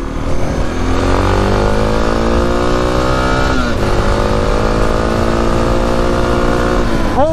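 Suzuki DR650 motorcycle engine under way, a loud steady drone with rising and falling pitch as the rider accelerates and shifts, continuous and close throughout with no talk.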